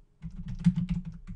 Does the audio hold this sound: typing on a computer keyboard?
yes